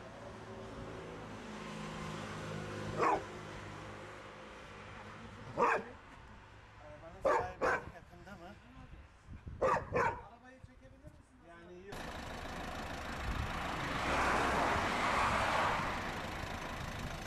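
A dog in Bodrum stays beside an injured cat and barks in a few sharp, separate bursts between quiet stretches, with people talking nearby and a car engine rising toward the end.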